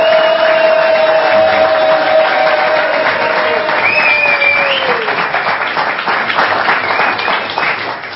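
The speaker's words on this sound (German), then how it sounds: "danke für den aufbauenden Applaus auch für die dritte Abteilung" A studio audience applauds at a football club talk show, with dense sustained clapping and some cheering over a faint tone. It stays loud, then slowly thins toward the end.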